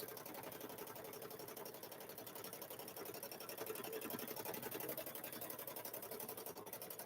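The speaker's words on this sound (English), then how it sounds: "I more or less think about what portion of the fabric needs stitching on it" A sewing machine stitches green fabric for a quilted Grinch handbag, a steady fast mechanical whir with rapid even needle pulses running throughout, close and continuous with no talk.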